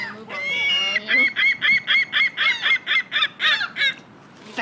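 Birds, apparently geese, honk loudly in a fast, regular run of about a dozen close calls, with a longer burst of overlapping cries at the start.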